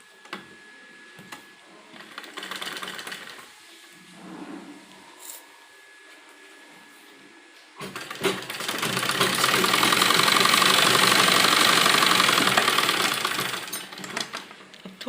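A sewing machine stitches a strip of fabric for a lined heavy-work suit, with quieter handling and faint motor sounds at first, then a loud steady mechanical run of rapid stitching lasting several seconds.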